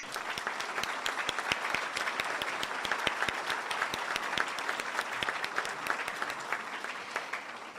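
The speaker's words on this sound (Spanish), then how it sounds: "y un aplauso para él, por favor, doctor" Audience applause fills an award ceremony hall, dense steady clapping from many hands sustained at an even level throughout, with no talk over it.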